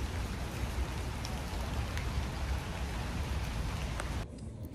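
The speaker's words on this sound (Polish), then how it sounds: "pada deszcz" Steady rain falling outdoors, a dense, even hiss of drops on surfaces that continues for several seconds before abruptly cutting off near the end.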